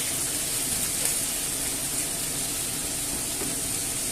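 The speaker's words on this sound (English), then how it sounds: "we'll leave it on here to fry off" Paella with chicken and chorizo fries in a pan, giving a continuous, even sizzle that holds steady with no talking over it.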